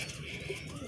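A pigeon coos softly at close range, a brief low murmuring call within a quiet background.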